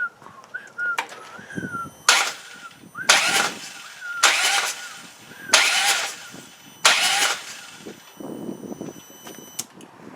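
A Harley-Davidson Road King with a fuel system fault cranks over in five or six separate bursts of starter whirring, each lasting about a second, close and loud. Brief quiet gaps fall between the attempts, with faint chirping in the background.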